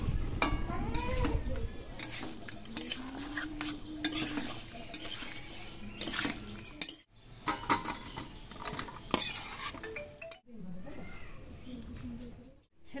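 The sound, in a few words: stirring mixed vegetables in a pan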